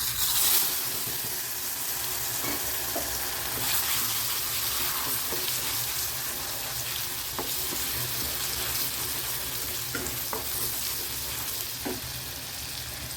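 Steady, loud sizzling and crackling of curry leaf paste frying in hot oil, continuous throughout with small pops and occasional stirring.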